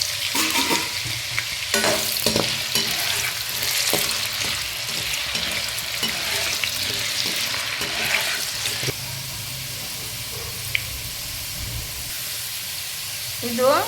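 Potatoes fry in hot oil, making a loud, crackling sizzle with bursts of stirring. The sizzle quiets to a gentler, steady bubbling partway through, and a voice speaks softly underneath now and then.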